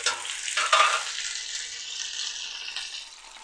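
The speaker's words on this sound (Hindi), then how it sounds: "ये ऑयल में ये भिंडी शामिल कर रही हूँ।" Slit okra drops into hot oil with a loud close sizzle that flares up early and then settles into a steady hiss, with no voices.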